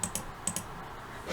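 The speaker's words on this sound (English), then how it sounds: "So sorry, I keep clicking." Quick computer clicks, four light taps in two close pairs, sound near and crisp over a quiet room hum.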